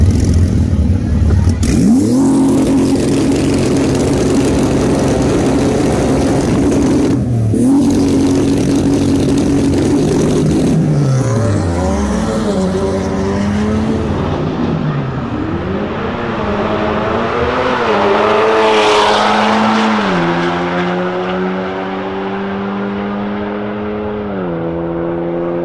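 A 750-horsepower Porsche GT2 accelerates hard and close, its engine note climbing through repeated gear pulls with brief breaks between shifts, loud and continuous throughout, then sweeping upward again near the end.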